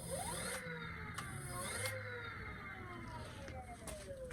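Segway Ninebot ZING C15 electric scooter with its motor spinning the wheel under throttle, a steady whirring hum with rising and falling whine, close and fairly quiet throughout.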